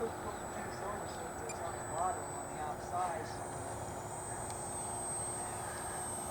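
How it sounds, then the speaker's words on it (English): An electric model Cessna 182 Skylane fitted with a 4-cell battery flies overhead, its steady motor whine holding over continuous outdoor background noise, with a few faint knocks and swells along the way. "Cessna 182 with a 4-cell battery in it."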